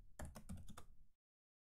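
Quick run of keystrokes on a computer keyboard while entering a find command in TempleOS, about six close clicks in a burst that stops abruptly into silence.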